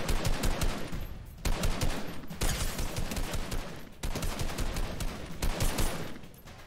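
Gunfire in Fortnite Chapter 2 rattles in dense, rapid automatic bursts, loud and continuous, with brief pauses between volleys and no talking.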